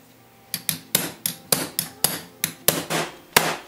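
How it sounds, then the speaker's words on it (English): A hammer strikes a cold chisel about ten times to cut steel wires on an old buggy wheel in a coach shop, sharp close metallic blows at an uneven pace with ringing decay. "I'm going to take a cold chisel and see if I can't get them cut apart."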